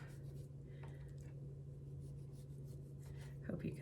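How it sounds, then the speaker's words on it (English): A knife slices the peel and white pith away from a whole orange for a kale and citrus salad, producing a steady, soft, close scraping and rubbing over a constant low background hum. "you're just basically cutting off all of the peel and the pith so that you can get to the sections of the orange"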